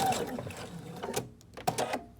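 A sewing machine runs a fixed stitch at the end of a seam on a baby gift, giving a few close, uneven mechanical bursts of whirring and clatter with short pauses between them.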